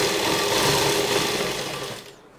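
Sewing machine running steadily while stitching a stripe onto a comfortable pregnancy dress, a continuous close motor whir with dense needle chatter that slows and fades near the end; no talking.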